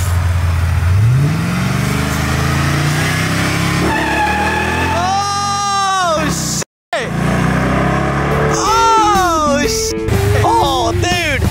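A cheap Facebook Marketplace race car drives on a private road, its engine revving and rising in pitch through repeated loud accelerations, with a brief cut in the middle and people talking and shouting excitedly over the engine.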